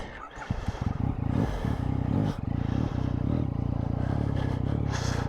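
A Yamaha XSR900 motorcycle cruising on a motorway, a steady loud engine drone with wind rush and a slight rise in engine tone, heard close from the rider's position with no talk.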